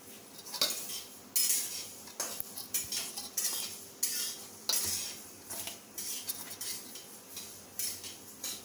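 Maida flour dough mixed and kneaded in a bowl while warm water is added little by little, with repeated scraping, clinking spoon-on-bowl knocks and wet rustles in an irregular rhythm, close and fairly loud.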